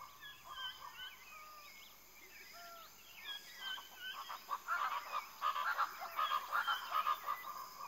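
Hoatzin calls in the flooded Amazon forest of Venezuela: a series of thin, chirping notes gives way to louder, hoarse, rhythmic croaking calls over a constant background of insect and forest hum.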